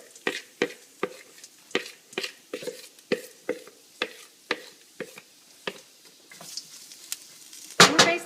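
Red cabbage sautéing in a pan gives a steady series of sharp scraping and tossing strokes, roughly twice a second, over a faint sizzle, ending in a louder clatter.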